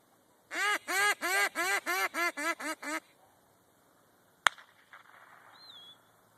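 A hunter blows a duck call in a run of about nine evenly spaced, loud quacking notes, then falls quiet before a sharp crack and a faint whistle, with no talk.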